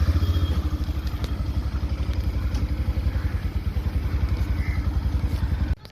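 Motorcycle engine running steadily on a solo ride, a loud, close, rhythmic low putter that holds throughout before cutting off abruptly at the end.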